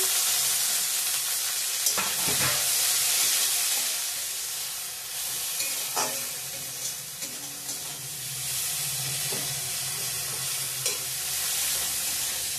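Ginger, tomato and chopped vegetables sizzle and fry in a pan, steady and close, with scraping stirs breaking through now and then and brief splashes of water in the background.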